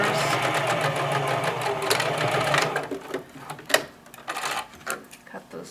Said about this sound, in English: Sewing a small craft seam